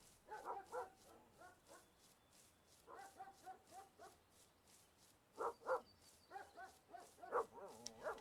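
Dogs barking in the fishing video game Russian Fishing 4, repeated clusters of distant yapping barks with short pauses between them, over a quiet outdoor background.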